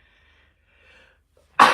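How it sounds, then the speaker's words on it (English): A single sudden sneeze bursts out loud and close near the end, after a faint intake of breath in an otherwise quiet room. "I'm going to sneeze, excuse me."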